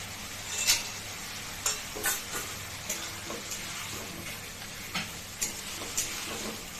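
Bori lentil dumplings fry in a bottle gourd curry with radhuni, green chili and tomato, a continuous close sizzle punctuated by regular spatula clacks against the pan, with no voices.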